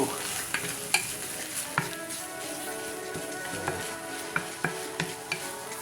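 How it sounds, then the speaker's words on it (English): Vegetables stir-fry in a hot pan with a steady sizzle, while a utensil scrapes and taps against the pan every so often, close by with no talking. "Turn the heat up a little bit and add some of the veggies."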